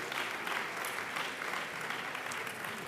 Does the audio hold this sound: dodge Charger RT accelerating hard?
no